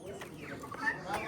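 Chickens cluck repeatedly and close by at a village pet market on a Sunday, the calls rising and falling over steady crowd murmur and talk.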